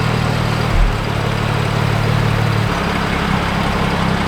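A BMW 2.0 engine running steadily just after starting, a continuous low mechanical hum with a brief bump near the start, close and loud on its own without talk.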